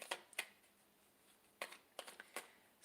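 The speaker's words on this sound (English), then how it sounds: "I'm shuffling away for Miss Spirit Readings, Gigi." Tarot cards being shuffled by hand in quiet, short crisp riffles and snaps, a handful of separate bursts with pauses between them, close and faint.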